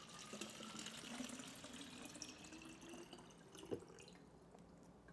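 Water runs from a tap into a small pitcher, a steady faint trickling stream filling it up to refill bottles, quiet and close with no talk.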